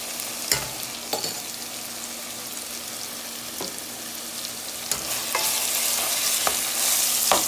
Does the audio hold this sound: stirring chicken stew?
yes